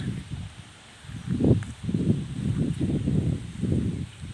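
Strong wind gusts outdoors at a Thai kite-flying field where large Chula kites are tested, heard as low rumbling buffets that swell and fade in repeated waves.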